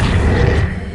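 The Accio summoning spell in the video game Hogwarts Legacy lands as a short, heavy, booming whoosh lasting about a second, loud and close, with a deep rumbling body.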